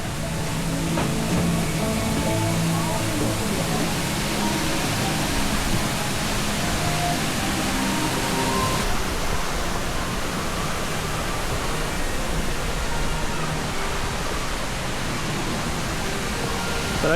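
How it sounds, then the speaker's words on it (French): Steady broadband rush of a waterfall tumbling behind rocks along a small trail at Toverland amusement park during the Winter Feelings event, a continuous even roar with no pauses. "Il y a l'air d'avoir une cascade"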